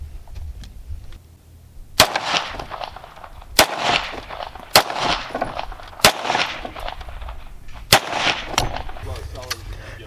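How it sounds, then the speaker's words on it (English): Five sharp 9mm FMJ shots from a Browning High Power pistol fired into a vest, loud and close, spaced roughly a second or so apart, each crack followed by a brief echoing tail. "he's gonna fire the Browning High Power with 9mm FMJ, 115 grain, just normal Winchester white box ammo, and he's going to put 5 rounds into the vest"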